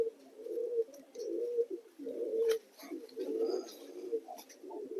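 A healthy blue satin pigeon, shut inside a bag, gives a close series of soft, throaty coos in a repeating rhythm with short pauses, and a few faint chirps sound in the background.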